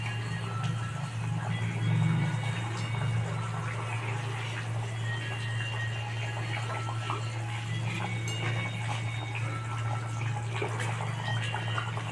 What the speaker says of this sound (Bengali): ঝোলটা ফুটে গেছে, এবার আমি মাছগুলো একটা একটা করে দিয়ে দেবো।